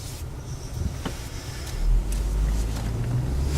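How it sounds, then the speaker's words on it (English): A car sets off from a stop, with a faint click and rustle inside the cabin, then a low engine rumble that swells and settles into a steady drone as it begins moving. "I'm going to put on my seatbelt, and I'm going to start driving"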